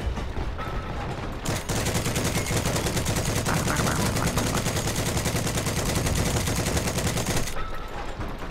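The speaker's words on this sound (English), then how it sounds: "Keep shooting." Sustained automatic gunfire from an armored vehicle's cannon and turret in the Heroes and Generals war game, a loud, dense, rapid stream of shots that continues for several seconds, then stops abruptly.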